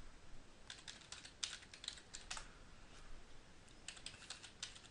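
Passphrase being typed on a computer keyboard: quiet, clustered bursts of key clicks with short pauses between groups, close up with no speech.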